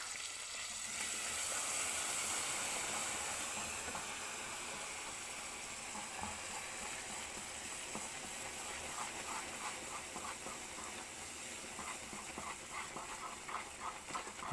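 Hot caramel hisses and sizzles steadily as cream is poured in for salted caramel, a loud steamy burst at first that settles into a continuous frying hiss with faint stirring.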